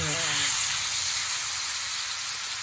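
Hot water hits a pan of fish frying with chilli powder and turmeric, a loud, steady, broad hiss and sizzle filling the whole stretch after a brief note at the start.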